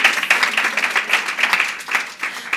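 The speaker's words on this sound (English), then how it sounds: "Guys, let's clap for her." A small audience claps for someone speaker at a women's business event, a brief burst of individual handclaps fairly close, loosening toward the end.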